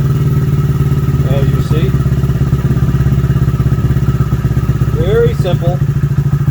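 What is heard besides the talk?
Honda Grom MSX125 motorcycle engine idling during idle speed adjustment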